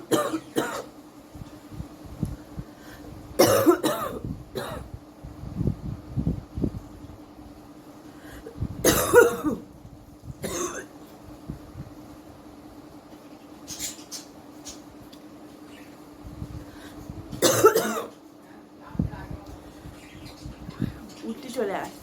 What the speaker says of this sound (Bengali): ঘুমিয়ে যখন শুয়ে থাকছি তখন বেশি কাশিটা হচ্ছে।